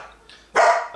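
A single sharp, loud dog bark rings out close by after a brief low sound, then trails off.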